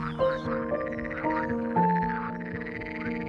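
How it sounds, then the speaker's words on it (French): By a lily pond in spring, frogs and toads keep up a steady croaking chorus of repeated, overlapping calls close by, with no one talking. "entendre le croissement des grenouilles et des crapauds dont je ne me lasse pas"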